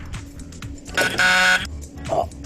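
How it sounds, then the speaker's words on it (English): A quiz-show buzzer sounds once in an English grammar class quiz: a loud, steady electronic buzz of about half a second, framed by brief speech before and after. "Fingers on the buzzers."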